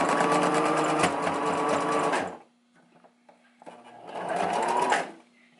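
A sewing machine stitches hair wefts onto a wig cap in two steady close bursts of rapid whirring, separated by a short pause with faint handling sounds.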